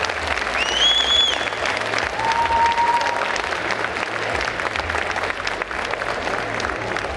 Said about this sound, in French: applaudissez-vous déjà